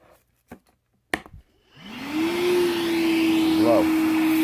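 A Milwaukee M12 1.6-gallon wet/dry vacuum, model 0960-20, is switched on at low speed. A few sharp clicks and knocks come first, then the motor spins up and settles into a loud, steady whine close by.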